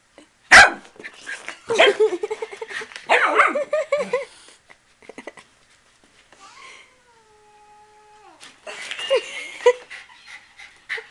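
Dog noises tangle together, with sharp yelps, panting and harmonic whines, then a short quiet lull before more scuffling cries near the end.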